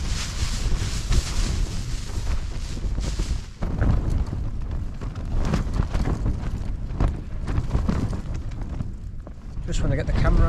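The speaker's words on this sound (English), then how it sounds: "Just when I get the camera out, the wind picks up." Strong wind gusts buffet an MSR Hubba NX1 tent in wild weather with rain, a loud, constant roar and flapping rush that swells and surges throughout with no let-up.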